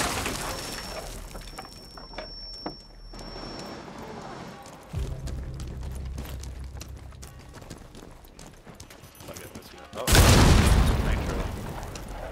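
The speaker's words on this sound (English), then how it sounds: "Charges activated! Blowing charge." A breaching charge detonating in the tactical shooter Rainbow Six Siege, a loud burst of blast noise late in the clip after quieter game sounds and players talking.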